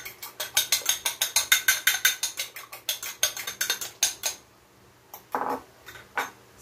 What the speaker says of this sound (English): we want to thoroughly beat our eggs